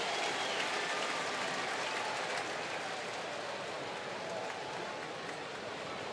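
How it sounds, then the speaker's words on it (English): A baseball crowd at Arizona at Atlanta cheers and applauds steadily for Martin Prado, a broad sustained ovation filling the ballpark. "Another nice cheer for Martin Prado"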